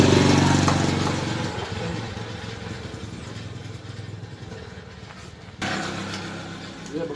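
A Honda TMX155 motorcycle engine with a noisy internal fault runs with a rough, steady drone that fades somewhat midway, while someone talks over it at the start and again near the end.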